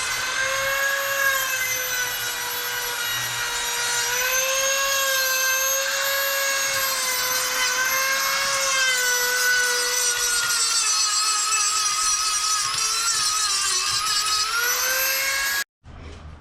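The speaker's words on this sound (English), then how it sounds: "I think we do have to sand more, unfortunately." An intake manifold for an 8th gen Civic Si being sanded with a power tool, a steady high-pitched whine that wavers slightly and runs continuously, close and loud, then cuts off abruptly near the end.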